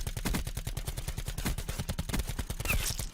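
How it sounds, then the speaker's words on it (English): Rapid automatic gunfire from a gunfight in the video game Call of Duty Blackout, a loud dense burst of repeated shots in a fast, steady rhythm, with no talking. "Long gunfight. I missed a good bit of bullets, but easy kill overall."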